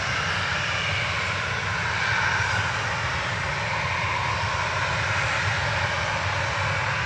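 An airplane's engines roar in a broad, steady rumble at Manchester Airport as it taxis and departs, loud and sustained from start to finish, with a slight swell partway through.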